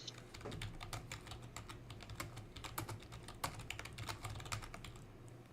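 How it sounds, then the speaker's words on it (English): Steady computer keyboard typing during a nightly stream, with quick irregular clicks of keys continuing throughout at close range, no talking. "I'm going to be typing for a while"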